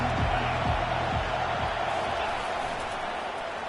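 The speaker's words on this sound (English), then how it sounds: "They challenge this crowd to bring the energy, and I'd say they're doing that." A stadium crowd in the video game College Football 25 keeps up a dense, constant roar, loud and steady with a few low thumps early on.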